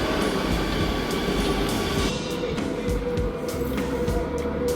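An Amsterdam metro train rumbles steadily along the track, a continuous low roar with faint rattling and squeals, heard from inside.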